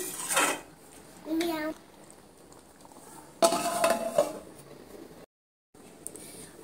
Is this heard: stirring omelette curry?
yes